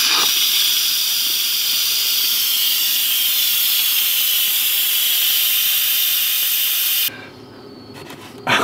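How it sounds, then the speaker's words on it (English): Steam vents from a pressure cooker on quick release, a loud steady hiss that runs for several seconds, then stops abruptly, leaving quiet handling noises. "We're gonna do a quick release. Pop the door here for a second. Let the steam all go out."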